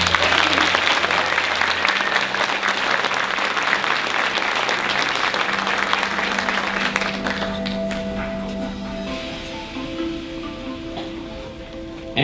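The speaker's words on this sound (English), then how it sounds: "Join me in a round of applause for our Junior Miss contestants" Audience applause for Junior Miss contestants at the Quitman Dogwood Pageant, a steady, full round of clapping that gradually softens, with faint background tones near the end.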